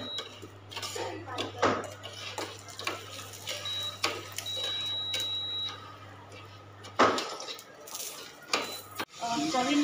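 A utensil clinks and scrapes against a bowl while water with baking soda and salt is stirred, giving intermittent knocks and swishes at close range amid kitchen background noise.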